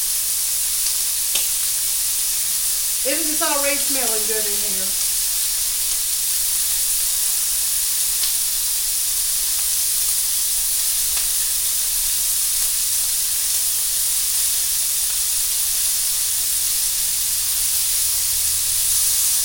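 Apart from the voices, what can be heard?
slices frying and sizzling in a pan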